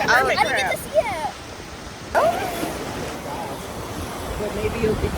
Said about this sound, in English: here comes the wave.